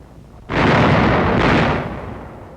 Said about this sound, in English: Tokashiki under fire from guns emplaced on the nearby island of Garuma